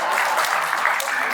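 Audience applause fills the hall at a Hindi comedy poetry gathering, a dense, steady wash of clapping sustained throughout without a break.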